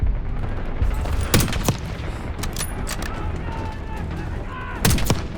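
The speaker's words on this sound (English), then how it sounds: "We're taking heavy fire at the helo." Rapid bursts of Call of Duty: Black Ops 6 gunfire crackle over a steady rumbling background, a helicopter under heavy fire, with a few louder shots standing out near the start and end.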